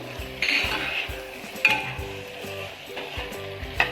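Gravy sizzles in a hot pan as coriander leaves are stirred in, with a spoon scraping and clinking against the metal in uneven strokes over a steady frying hiss.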